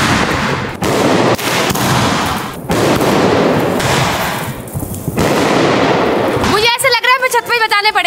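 Diwali firecrackers burst outdoors in a dense, noisy stretch of crackling and popping, with people talking and calling out over the din.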